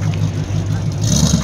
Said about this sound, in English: Oh, that's the other car. El Camino.